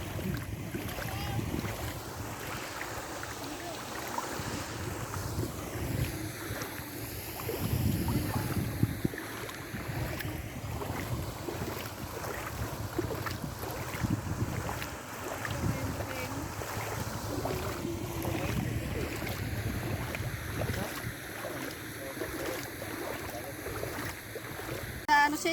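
A boat crosses the water at Al Qudra lake with steady engine and water rush and strong wind buffeting the microphone, continuous and close, with occasional voices underneath.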